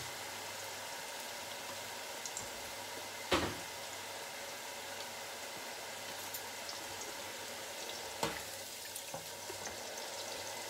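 Sliced chayote fries sizzle in hot oil, a steady, fine crackling hiss that runs throughout, broken by two louder clunks of the basket or utensil.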